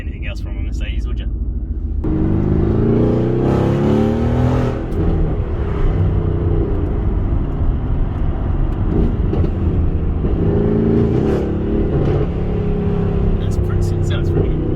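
A Mercedes-AMG GT R sports car engine pulls hard under acceleration, a loud rising drone heard from inside the cabin, with people talking over it.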